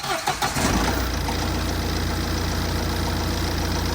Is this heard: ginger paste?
no